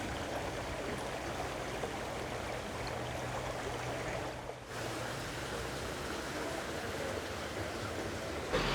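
Water of the River Marden in Wiltshire flows in a steady, close, broadband rush that runs unbroken for about nine seconds, dipping only briefly near the middle.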